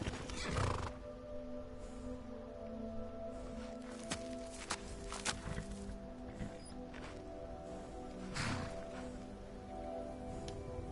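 A horse whinnies loudly near the start and again later at a stable in the game Skyrim, with hooves clip-clopping and shuffling steadily throughout over a constant low ambient hum.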